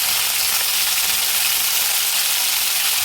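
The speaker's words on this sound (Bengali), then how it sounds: "তো চলো এটা ভাজা হোক" Tomatoes fry in a pan while making tomato posto. A loud, even sizzling hiss carries on without a break, close up, with no one speaking.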